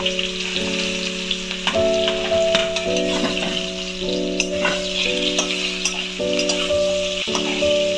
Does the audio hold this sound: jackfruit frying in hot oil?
yes